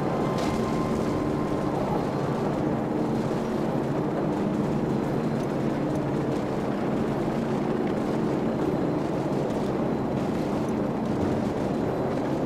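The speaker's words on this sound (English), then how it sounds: "Crew, be advised, friendly helicopters entering the area." Steady, dense rotor and engine roar of helicopters passing overhead in the video game Call of Duty 4: Modern Warfare, loud and continuous throughout with no voices.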